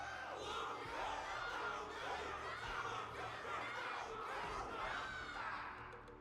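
Crowd cheering in the video game Honkai Star Rail swells in continuous rolling waves of many voices shouting together, steady and moderately distant throughout.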